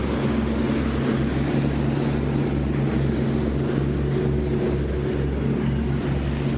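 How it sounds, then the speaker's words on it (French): Small motorboat passing on the water in Lyon on a sunny day, a steady low pulsing engine drone with faint ambient wash, continuous and fairly close, with no voices. "Donc ça c'est un petit bateau."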